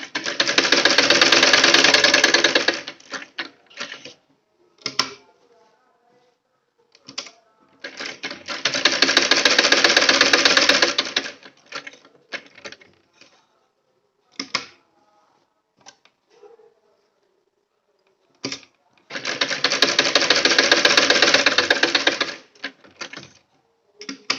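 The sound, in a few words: sewing machine stitching a sleeve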